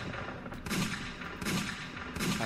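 Gunshots in a Westland Survival video game, three broadband bursts spaced roughly evenly, each with a thudding low boom and a bright crack, fairly loud with no talk.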